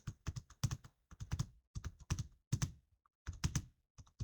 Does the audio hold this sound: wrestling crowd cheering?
no